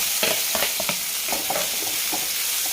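Crushed green chilli thecha sautéing in a pan, a steady close sizzle with repeated scraping strokes of a spatula stirring through the paste.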